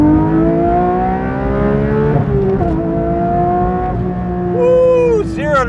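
A Porsche 911 GT3 engine revs hard and accelerates, its tone climbing steadily through the gears toward a high howl. The loud, close sound is interrupted by brief shift dips, and a voice is heard near the end.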